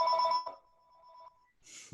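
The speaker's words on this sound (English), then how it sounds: "telephone's ringing." Telephone bell ringing in an office, a single sustained ring with a bright tone that fades over about a second, then a short rustle at the end.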